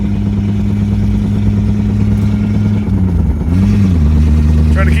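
A Toyota Tercel 4WD wagon with a 4A-C engine hums steadily at low RPM while being driven, a loud, continuous low drone with slight shifts in pitch near the end.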